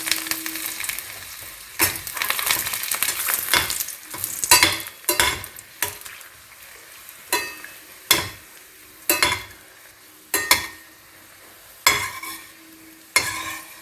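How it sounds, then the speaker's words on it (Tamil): Stuffed green chillies frying in a pan under a soft sizzle, broken by regular sharp scrapes and knocks of a spatula roughly every second, close and distinct. "அடுத்து நம்ம இந்த ஸ்டஃப்டு மிளகா வறுத்துடலாம்"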